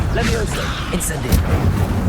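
Incendio fire spell cast in the Hogwarts Legacy video game during a fight: a loud, whooshing fiery burst with booming, rumbling texture over steady game noise, with voice chatter mixed in.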